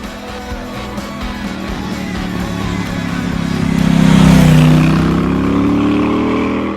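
Triumph Bobber motorcycle engine revving loudly up close, a steady throbbing growl rising to a strong surge midway then holding at high revs before cutting off.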